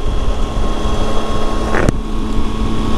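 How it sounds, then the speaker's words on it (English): Steady, heavy wind rush buffets the microphone with a constant low roar while riding a BMW motorcycle at speed, and a brief sharp click near the end as the helmet visor closes. "Close my visor here so it's not quite as windy"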